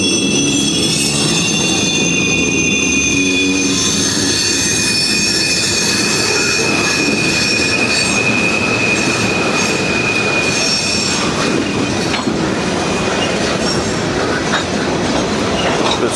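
A train passing on the Henderson subdivision near Pembroke and Hopkinsville, Kentucky, with loud continuous rumble, clattering wheels and a long high-pitched wheel squeal, close and sustained with no talk.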